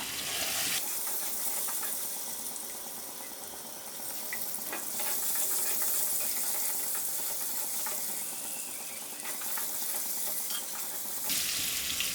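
Eggs frying in a pan for an egg curry, a steady bright sizzle that runs close and continuous, with a short pause near the middle and no talking.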